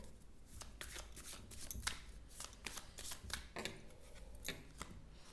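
Tarot cards are shuffled in a steady run of soft, quick riffling bursts, close and faint, with no voices.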